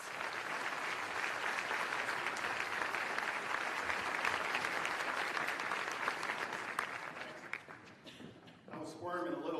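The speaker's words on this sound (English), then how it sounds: "Round of applause." A large audience at a regional economic summit in Orange County applauds a speaker being called to the stage, a dense, steady wash of clapping that holds for several seconds before thinning out near the end.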